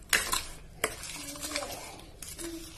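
Spoon stirring and mixing mutton with spices in a cooking pot, several sharp scraping clinks against the metal followed by softer sloshing and faint sizzling, close and alone.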